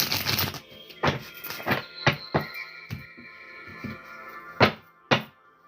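Cards are shuffled in several separate bursts, quick riffling rasps and soft taps spaced a second or so apart, close by.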